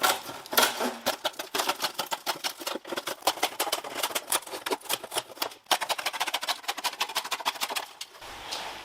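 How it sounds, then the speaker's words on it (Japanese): Scissors snip burrs off the edge of a front bumper part during a Mazda RX-7 FD3S restoration, a quick run of sharp, close clicking cuts in steady rhythm with brief pauses, and no talking. "ハサミで切れるかな？"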